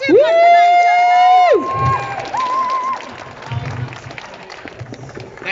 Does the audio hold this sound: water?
no